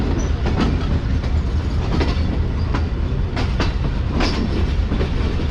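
A train pulls away from Lala Musa station, loud and close, with steady rumbling and repeated clickety-clack wheel beats over rail joints.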